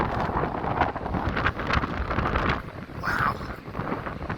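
Cold December wind buffets the microphone on Blackpool Promenade, a steady broadband rumble and roar that swells and dips continuously throughout, loud and close with no talk.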